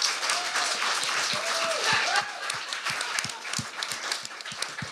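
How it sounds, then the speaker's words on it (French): Audience applause at a live comedy show at the Minifest, a broad steady patter of many hands for several seconds, with a few voices calling out over it. "Tout le monde, on donne une bonne main d'applaudissement pour David W."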